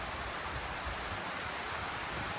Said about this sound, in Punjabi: ਬਰਸਾਤ ਪੈਣ ਲੱਗ ਗਈ ਆ